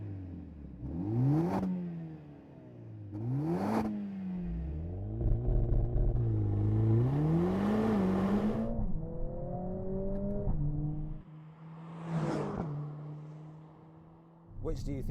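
A new Mercedes-AMG A45 turbo four-cylinder is revved up close in several sharp bursts. Each climbs and falls, then comes a longer sustained high-rev pull, settling to a steady idle before a final blip.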